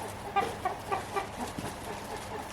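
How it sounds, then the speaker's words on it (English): A rooster crows in the back, sounding an alarm in a series of short, harsh bursts over a steady outdoor hum, distant rather than close. "you can hear Foghorn the rooster in the back hollering, sounding the alarm"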